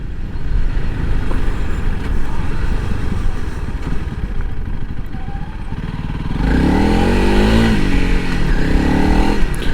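A 2021 Honda CRF 300L Rally motorcycle rides on sand and gravel roads by the Pacific Ocean, its engine droning steadily close by, then growing louder and rising in pitch partway through as it accelerates.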